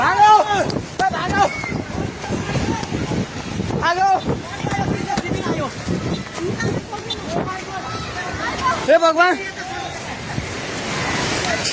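Flood water in Nepal surges over stones in a continuous rushing roar, with frantic shouting voices breaking through throughout.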